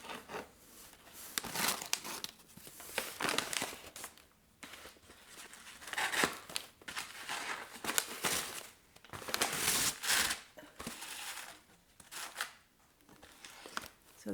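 Plastic wrap being pulled and crinkled off a Nimbus 2000 broom replica from Cinereplica, with repeated bursts of crackling and tearing rustle over about fourteen seconds, fairly faint with brief pauses between handfuls.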